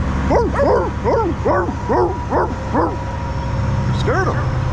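Repeated barks from Misty, a dog near a tree in a neighbourhood, come in a steady run of about eight close, loud yaps with a short pause before one more, while another voice talks underneath.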